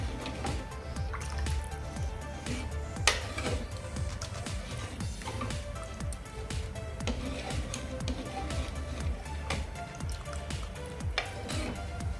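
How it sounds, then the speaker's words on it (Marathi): Water is poured into a pot of simmering katachi aamati curry, a steady liquid pour with soft bubbling and splashing throughout, close and continuous. "आता हे एक ग्लास पूर्ण आपण ह्यामध्ये ओतून घेऊया"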